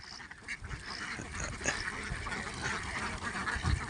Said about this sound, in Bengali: হাজার হাজার হাঁস, হাঁসের ক্ষেত বলা চলে